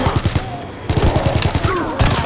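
Rapid bursts of gunfire from a Type 1000 gun in a zombie video game, sharp repeated shots in quick volleys with brief pauses between them, loud and close.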